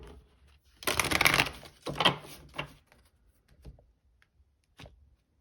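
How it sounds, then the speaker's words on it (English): Tarot cards being shuffled in a few quick riffling bursts, close and crisp, followed by softer single taps and a pause. "let me do one last shuffle."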